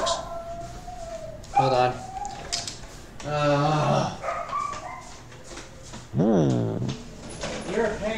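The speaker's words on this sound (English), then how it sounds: "Let me get those dogs." Dogs barking and whining close by in a room, several short yelps and a rising howl-like cry mixed in among intermittent conversation.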